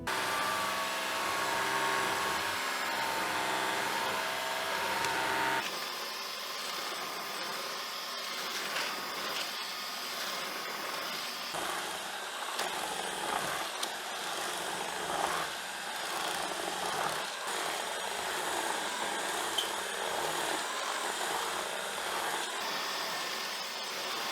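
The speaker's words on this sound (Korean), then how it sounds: "얼마나 시끄러운지 기존 무선 청소기 소음과 비교해 보겠습니다" Shark Clean Sense IQ+ (IW3241KR) cordless vacuum cleaner running with a loud, steady whine and airflow roar that shifts in pitch partway through, compared against other cordless vacuums, with no talk over it.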